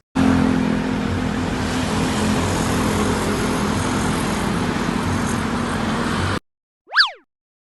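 A bus sound effect: a steady, loud engine drone for about six seconds that cuts off abruptly, followed by a brief descending cartoon-like boing.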